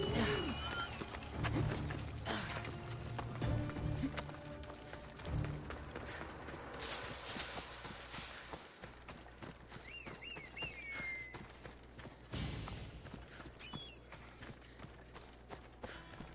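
Horse hooves clopping over rocky ground in the Assassin's Creed Odyssey video game, a steady run of hoofbeats with game music and ambient effects behind, fairly close and moderately loud.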